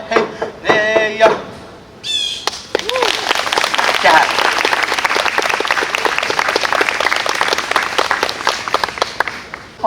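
Audience applause breaks out after a singing performance at an Indigenous Peoples Day event at Harvard, dense sustained clapping following a short sung phrase, with a voice briefly heard at the start.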